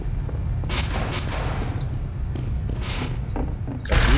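The Scorch Shot flare gun fires in Team Fortress 2, with several bursts and mechanical clatter over a dense, steady game-combat din, and a louder hit at the end.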